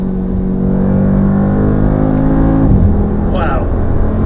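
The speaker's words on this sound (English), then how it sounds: "Put the noisy exhaust on." A new Mercedes G-wagen with its noisy exhaust mode on rumbles loud and close from inside the cabin, the engine note climbing and droning steadily through a gear change, with a voice briefly over it.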